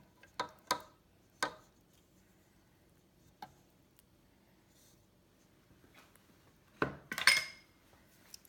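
Spatula mixing churro batter in a bowl, heard as a few sharp taps and knocks spaced apart, a quiet stretch, then a cluster of louder scraping clatter near the end.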